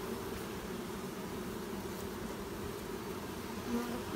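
Bees swarming during a hive removal, a dense, steady buzz that fills the whole stretch at close range with no pauses.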